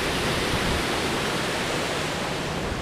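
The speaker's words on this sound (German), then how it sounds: "Fließend Wasser." Flowing water of a mountain stream in the Harz, a steady, dense rushing hiss close by, continuous and unbroken with no voices over it.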